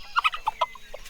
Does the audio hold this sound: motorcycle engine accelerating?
no